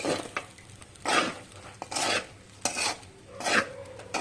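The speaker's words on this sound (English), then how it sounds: "Now we mix these ingredients together" Peas, sausage and fried rice being stirred together in a pan, with repeated scraping strokes of a spatula against the metal and a faint sizzle beneath, the strokes coming in irregular bursts about every second.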